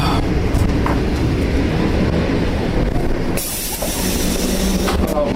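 A train rumbles steadily along the rails at close range, a dense, continuous roar with faint rhythmic clatter and a brief dip midway, with no voices.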